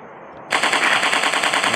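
A loud burst of rapid gunfire bursts in suddenly in a 3D dinosaur hunting game on Android after a quiet moment. It carries on as steady, close, repeating shots with no talk over it.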